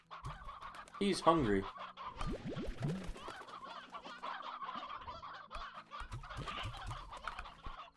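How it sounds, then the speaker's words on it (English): Chickens clucking in the video game Slime Rancher, a hen's busy clucks and squawks repeating through the clip over game ambience, with a brief louder burst early on and someone talking at times. "Alright, we have a hen."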